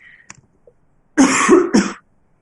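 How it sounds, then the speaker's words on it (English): A single harsh cough, close and loud, breaking in two quick bursts after a moment of near silence. "Excuse me, I just need to cough"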